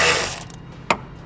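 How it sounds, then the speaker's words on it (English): A ratchet with a 10 mm socket works a bolt loose during trailer wiring harness installation on a 2013 vehicle, giving a close, quick burst of pawl clicks that fades, then one sharp click. "I'm going to use a 10 millimeter socket."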